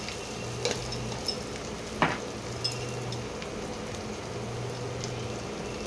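Bori fries in hot oil in a pan with dry spices, a continuous sizzle broken by a few scraping stirs and light clinks.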